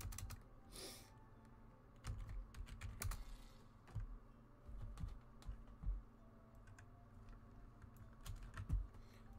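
Quiet clicking of fingers typing on a computer keyboard at a website, irregular bursts of keystrokes with short pauses, close and alone.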